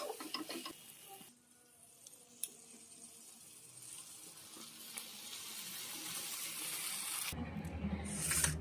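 Fish added to fried spices in a pan, a quiet steady sizzle and frying hiss with soft stirring scrapes, building slightly and ending in a brief louder burst.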